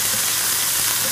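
Ginger and garlic frying in hot oil, a loud, close, continuous hissing sizzle with fine crackles throughout.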